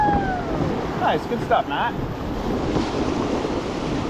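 Rushing white water from a rapid on an Oregon river, a steady broadband roar mixed with wind buffeting, while people talk briefly over it.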